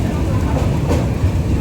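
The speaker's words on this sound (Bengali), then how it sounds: "রূপনারায়ণ নদীর ওপর দিয়ে এই যে চলেছে আমাদের ট্রেন।" Tamralipta Express rolling over the Rupnarayan river bridge at Kolaghat in light rain, a steady dense low rumble of wheels and carriages throughout, loud and close, with no clear speech.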